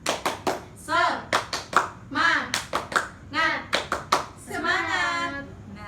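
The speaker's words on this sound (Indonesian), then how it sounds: "Ibu pimpin tepuk semangat" A classroom of students performs a rhythmic spirit clap led by their teacher, sharp grouped claps in a patterned beat alternating with chanted voices, close and lively.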